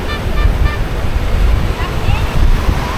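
Sea waves wash up over a stepped shoreline at Jurerê beach in Florianópolis, a loud, rolling surf rush under heavy wind buffeting on the microphone, with faint voices mixed in.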